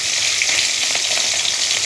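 Koi fish sizzling loudly in a frying pan as it is stirred and turned over, a dense, steady crackle of hot oil filling the whole clip with no voices.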